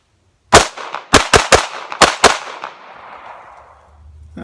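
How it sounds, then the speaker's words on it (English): Six sharp pistol shots from a Remington 1911R1 Enhanced handgun: a single crack, a tight burst of three, then a pair, each loud and close with a long ringing decay trailing off after the last. "I'm going to put 1 round on the first assailant, 3 rounds on the second bad guy, and then 2 more rounds on the first bad guy."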